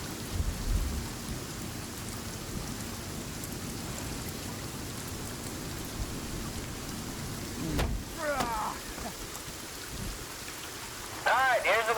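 Steady rain hisses through a Sons of the Forest game scene, with low thunder rumbles near the start and middle, plus a few short chirping sounds late in the clip; no talking is heard.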